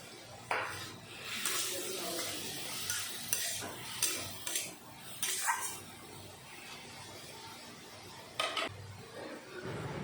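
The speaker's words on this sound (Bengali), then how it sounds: "এখন দিয়ে দেব ভেজে রাখা আলুগুলো।" Fried potatoes tipped into a pan of spiced fish curry, with bursts of sizzling and clattering stirs, then quieter frying and a final scrape.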